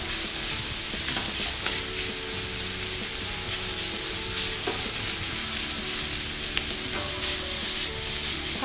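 Minced beef sizzles loudly and evenly as it is stir-fried in a pan for a miso beef rice bowl, with occasional scrapes of the spatula over a constant crackle and no talking.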